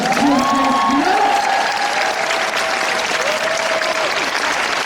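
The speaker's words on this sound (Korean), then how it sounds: "모두 다 같이 하나가 돼서 박수 한번 주시겠습니까" Loud, dense applause from a large audience at a military division event, sustained and even throughout, with a faint musical tone gliding underneath.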